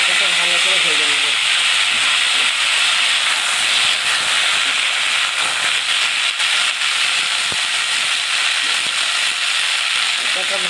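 Garlic, five or six green chilies and coriander leaves fry in a pan, making a loud, dense hiss that runs without a break throughout.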